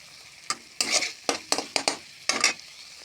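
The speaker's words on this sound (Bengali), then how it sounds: "নাড়াচাড়া করে মশলা ভাজিয়ে নেব" Spices with cumin powder fry in a pan under brisk stirring, about seven distinct scraping sweeps of a spoon over a hissing sizzle, close and clear.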